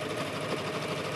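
A sewing machine stitches along a T-shirt hem, a close, continuous rapid mechanical whirring and buzzing with an even, unbroken rhythm throughout.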